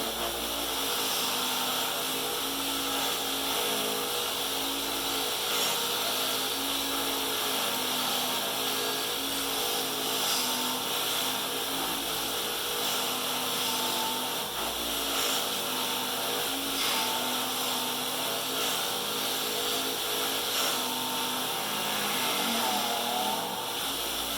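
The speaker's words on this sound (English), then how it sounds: "we'll buff this one out" A power buffer polishes an aluminum clutch face for a modified Polaris, giving a loud, steady, unbroken whir close by throughout, with no talk.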